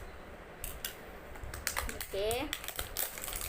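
Plastic wrapping on a bamboo salt product being torn open from the back, with crinkling and a short tearing rip among scattered handling clicks, close by, with a brief spoken word.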